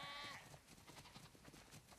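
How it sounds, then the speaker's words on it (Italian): Sheep bleating in a barn in The Last of Us Part II, a soft, brief animal call that sounds distant and fairly faint against a muffled game background, with no voices over it. "Wow, sono tantissime pecore."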